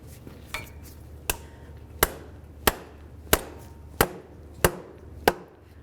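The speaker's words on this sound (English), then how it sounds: "use a rubber mallet right along this area here" A rubber mallet taps a CV axle shaft into place on a 2009-2020 Dodge Journey front end, eight sharp, evenly spaced knocks about 0.7 seconds apart, close and fairly loud over a low steady hum.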